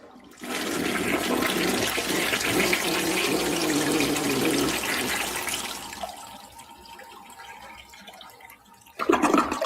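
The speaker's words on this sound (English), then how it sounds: "And make sure you flush." A toilet flushes close by, a loud rushing gush of water that swirls for several seconds, fades into a quieter trickle of the tank refilling, then ends in a brief bump.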